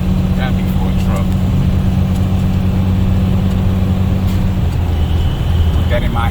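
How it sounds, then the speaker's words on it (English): A big truck engine drones with a steady, deep hum around a box truck, the low tone holding for several seconds before shifting. Faint talk sits under the continuous engine noise. "It's a big ass engine. Gotta be for a truck."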